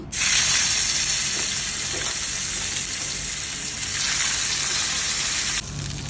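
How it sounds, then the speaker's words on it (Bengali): Loud, steady sizzling of katla fish heads frying in hot oil, a dense crackling hiss that holds throughout and dips briefly near the end. "তেলটা গরম হয়ে গেছে, মাছের মাথাগুলো ছেড়ে দিচ্ছি।"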